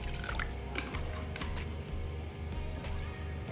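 Half a cup of vinegar pours into a bowl already holding water for a fish fry marinade, making a close, continuous trickling and splashing sound with no talking.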